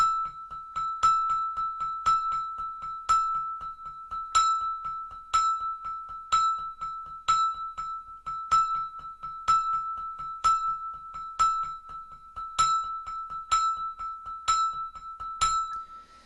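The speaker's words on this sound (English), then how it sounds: "So it'll sound something like this." English handbells struck with mallets in a steady right-left sticking pattern with shifting accents, a clear ringing pitch repeating in even, closely spaced strikes, some louder than others, with no voices.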